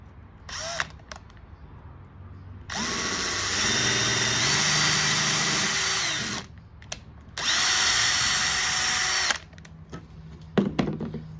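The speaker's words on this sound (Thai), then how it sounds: "เราเจาะกันอีกข้างหนึ่งเลยนะครับ" A power drill bores holes into a bamboo trash bin in two long, steady whining runs of several seconds each, separated by quiet handling noises.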